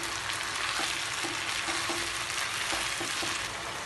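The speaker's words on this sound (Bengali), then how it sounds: "দিয়ে খুব ভালোভাবে নাড়িয়ে নেব" Tomato paste frying for Kabuli pulao, a dense, steady, loud sizzle filling the whole stretch with faint stirring beneath it, no voices.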